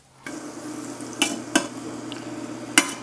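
Homemade maple bourbon breakfast sausages fry in a pan with a steady soft sizzle, punctuated by a few sharp clicks and scrapes of a utensil against the pan.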